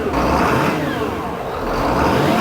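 Inboard boat engine running steadily after a fresh start, a continuous low rumble with a crisp, lively idle and broadband mechanical noise, fairly loud and close, with no voices over it.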